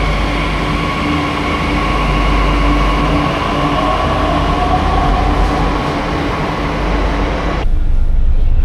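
A Delhi metro train rumbles steadily along the tracks, heard from inside the carriage as a loud, constant roar that shifts in tone near the end.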